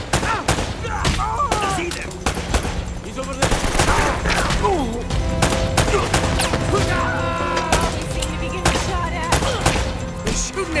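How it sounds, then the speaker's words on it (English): Rapid bursts of gunfire in the video game Uncharted: Drake's Fortune during a boat fight, loud repeated shots crackling in dense volleys throughout, with occasional voices over the shooting. "He's shooting at you too, you know."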